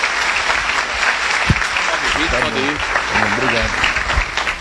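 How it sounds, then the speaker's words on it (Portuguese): Church congregation applauding to welcome a pastor, a dense sustained roar of clapping with a few voices and cheers rising through it. "Vamos receber um homem de Deus com uma salva de palmas"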